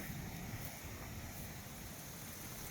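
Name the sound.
stream water flowing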